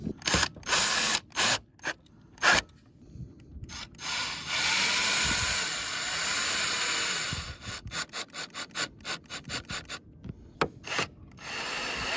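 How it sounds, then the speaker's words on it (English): A cordless drill drives motorcycle fairing bolts back in, with short repeated whirring bursts, then a longer sustained run, then more rapid quick bursts, close and fairly quiet. "just drill them back in."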